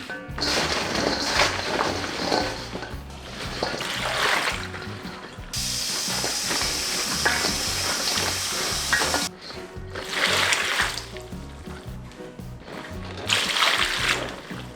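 A kilogram of chili peppers being washed and gently rubbed by hand in water, with steady sloshing and splashing that pauses briefly twice before resuming.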